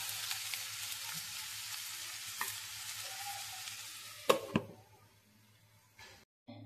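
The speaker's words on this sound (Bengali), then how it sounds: "দিয়ে পেঁয়াজটাকে আমি একটু ফ্রাই করে নেবো, শ্যালো ফ্রাই আর কি, খুব ডিপ ফ্রাই না।" Chopped onion shallow frying in a pan: a steady close sizzle and crackle, stirred with a few sharp scrapes and knocks near the end before the hiss drops away to quiet.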